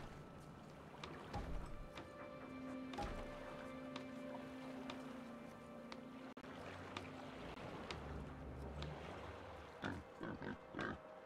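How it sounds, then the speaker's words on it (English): A pig grunts in Metro Exodus, short snorting bursts coming in intermittent clusters over a low, steady outdoor ambience with water and wind. "Oh, pig."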